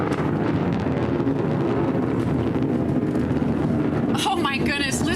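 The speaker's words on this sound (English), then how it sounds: "listen to the roar of the BE-3 engine" A Blue Origin New Shepard rocket's BE-3 engine roars steadily through liftoff as a dense, continuous broadband rumble, with broadcast commentators talking over it throughout.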